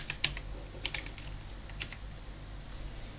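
A few sparse keystrokes on a computer keyboard being tested, with light clicks grouped near the start and one more a moment later. They are fairly faint against a steady low background hum.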